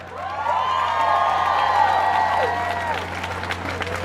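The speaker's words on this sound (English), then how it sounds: "Let's give them a warm round of applause entering into the park." A crowd at an outdoor family-protection rally in a Brooklyn park applauds and cheers loudly, a swelling mix of clapping, whoops and shouting voices that fades toward the end.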